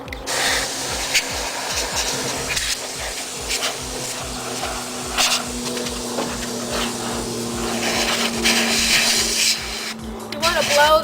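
Hissing blasts from a compressed air can blowing dust out of a computer fan, sustained sprays broken by short pauses over a low mechanical hum.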